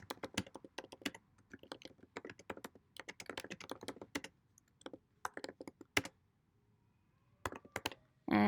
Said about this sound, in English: I'm going to type a sentence.